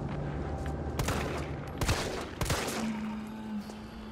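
Gunshots in the Resident Evil 3 survival horror game: a few sharp, loud cracks spaced about a second apart over a low ambient rumble and a sustained tone, with no voices.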